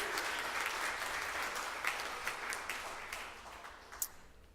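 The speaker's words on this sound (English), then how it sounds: "Let's give everybody, all of them, a big hand, a big round of applause" Audience applause rings out at a Houston startup pitch day awards event, a dense steady wash of clapping that slowly thins, with a few sharper individual claps standing out near the end.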